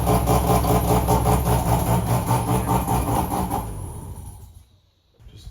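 A just-started engine with a fuel leak idles loud and close with a rough, rapid pulsing beat, then fades away and drops nearly silent before a faint rise at the end.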